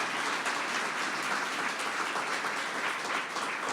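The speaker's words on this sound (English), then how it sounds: "Give them a round of applause." An audience at a business seminar applauds steadily, a dense wash of clapping that holds at an even volume throughout.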